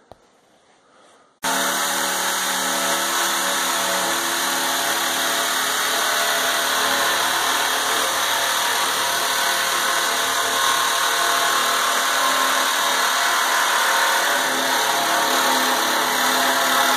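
A power tool cuts the top off a steel oil drum being made into a charcoal kiln, starting abruptly after a brief quiet moment and then whining loudly and continuously with a harsh metallic grind.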